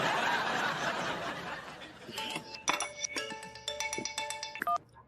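A phone rings on redial: a burst of hissy noise gives way to a melodic electronic ringtone with sustained tones that repeats several times, then cuts off abruptly.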